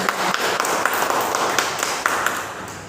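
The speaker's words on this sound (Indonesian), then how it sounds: "Oke, tepuk tangan untuk prioritas." Students clapping in a classroom for a classmate, a close, steady patter of many hands with a few sharper individual claps standing out, sustained for a few seconds.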